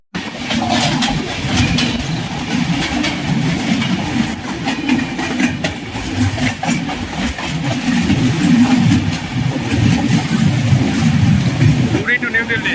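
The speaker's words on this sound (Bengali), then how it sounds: "10 মিনিট হল্ট করার পর আমাদের ট্রেন ছাড়ছে টাটানগর" Gitanjali Express train pulling out of Tatanagar station after a halt, a loud steady rumble with rhythmic wheel clatter throughout, with a voice talking over it.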